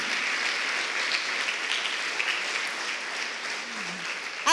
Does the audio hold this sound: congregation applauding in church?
yes